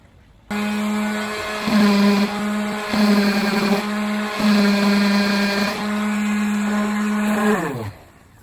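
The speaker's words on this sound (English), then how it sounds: "I've been sanding it down." A power sander works over a Drexel dresser. It spins up to a loud, steady, close whine that rises and dips as pressure shifts, then winds down and stops after several seconds.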